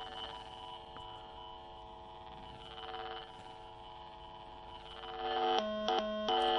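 A 500XP pair tracing probe gives off a steady low electrical hum across a telephone line pair, then a louder pulsed warning tone cuts in and out near the end. Nobody speaks.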